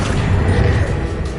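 Confringo fire-blast spell in Hogwarts Legacy, a loud, low rumbling explosive blast with crackling debris, sustained and close.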